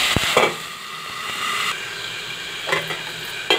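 Pumpkin peels and seeds fry in hot ghee with a steady sizzle, broken by a few sharp stirring scrapes and spatters near the start and again toward the end.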